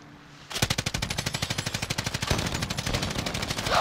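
Rapid automatic gunfire in Call of Duty: Modern Warfare, a loud, close burst of evenly spaced shots that starts abruptly after a brief lull and keeps up for several seconds, with dense rattling bursts toward the end.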